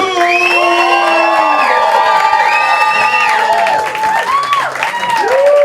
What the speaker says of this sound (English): Please clap it and cheer and whooping.